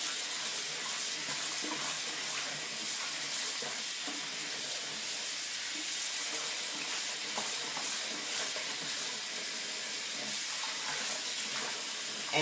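Cold tap water runs into a sink holding mustard greens, a steady, even hiss of flowing water that continues unbroken with no voices.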